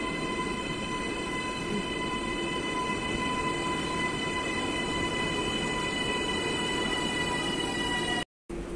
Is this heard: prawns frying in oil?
no